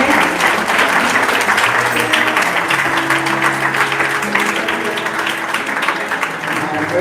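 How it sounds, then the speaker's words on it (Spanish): Loud, steady applause from a church congregation, a dense wash of clapping that holds throughout, with voices and some cheering mixed in beneath it. "Démonos un fuerte aplauso a nuestras vidas"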